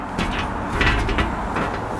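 A cupboard door is handled nearby, with a few short knocks and a soft clunk as it moves and shuts, no talking.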